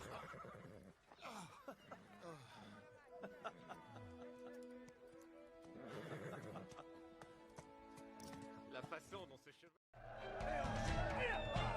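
A horse whinnies and snorts, with hoof sounds and shifting movement around it. Music and other layered sounds run underneath, ending in a louder, busier burst near the close.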